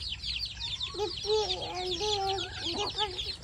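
Chickens cluck close by in a series of short, repeated clucks, with higher chirps from other birds behind them.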